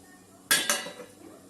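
A metal lid is set onto a pot of cauliflower curry, making two quick, bright clinks close together and then a short fading ring in a quiet kitchen.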